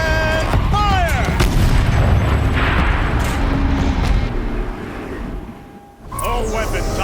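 A turret firing in Horizon Zero Dawn: heavy booming blasts roll together into a dense, loud barrage that fades toward a lull, then one more burst kicks in at the end.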